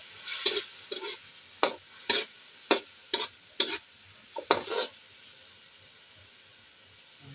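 Food frying in a pan and being stirred, with about a dozen sharp scraping strokes in an irregular rhythm over a soft, steady sizzle, close and with no talking.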